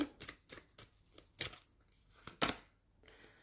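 Tarot cards are shuffled by hand, giving irregular papery riffles and soft slaps in a few bursts. It is close and fairly quiet, with no speech.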